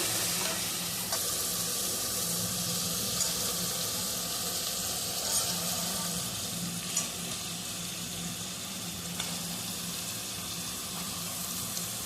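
Tomatoes sizzle and fry steadily in a hot pan for a home-style tomato curry, a continuous close hiss with no talking.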